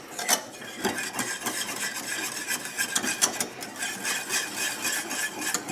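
A spatula scrapes around the sides of a pan of thick pastry cream on the stove, a busy rasping rhythm of quick rubbing strokes, close and moderately quiet.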